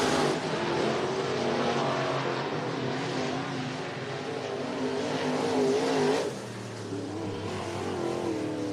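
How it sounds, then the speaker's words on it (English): Six race cars run hot laps at Cottage Grove Speedway in Oregon, a continuous loud roar of engines blending together, rising and falling slightly as the field passes, with no talk over it. "That is your 6 cars in the first set of hot laps that is now underway."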